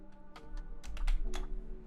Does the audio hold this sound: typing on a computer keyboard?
yes